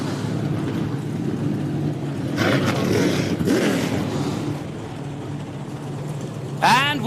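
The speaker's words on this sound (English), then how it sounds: "the hills are alive with the sound of Trans Am" Trans Am race cars at Lime Rock Park, engines droning and roaring in the distance with a swelling pass partway through, a commentator talking over the sound.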